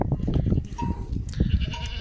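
Several Merino sheep bleat close by, overlapping calls rising and falling over a couple of seconds, with a busy outdoor farm background on a highland pasture.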